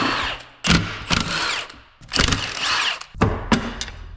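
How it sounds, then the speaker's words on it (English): A power tool with a 15 mm socket spins out the case bolts on an NP241C transfer case during teardown, giving several short, close whirring and rattling bursts with brief gaps between them. "We'll come back in with our 15 mil and we'll get all these case bolts out."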